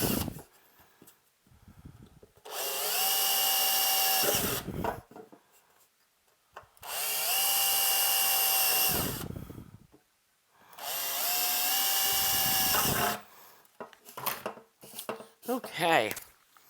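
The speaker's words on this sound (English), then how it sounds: "So we're going to drill these holes." A power drill whines through three sustained bursts of drilling holes in an amplifier chassis, each a few seconds long and separated by pauses, with a brief voice at the end.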